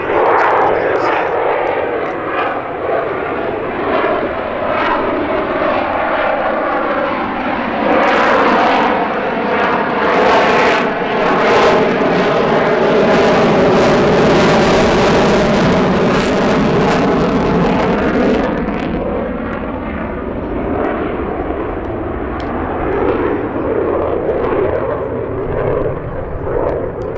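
An F-35B jet makes a low, slow approach at the Duxford Battle of Britain airshow, its engine roar swelling to a loud, rumbling peak as it passes nearby and then easing off, with a commentator talking over it.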